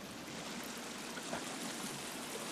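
A waterfall in a cave in the survival game The Forest gives a steady broadband rush of falling water, soft and constant with no breaks and no talk.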